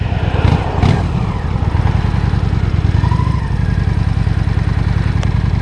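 A motorcycle rolls along on a city street with the clutch released and no throttle, its engine a steady low rumble that stays close and even throughout, with faint traffic noise behind it.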